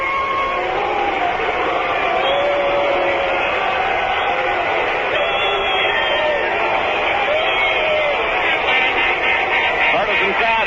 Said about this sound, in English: Partisan crowd here in San Francisco getting on little Elio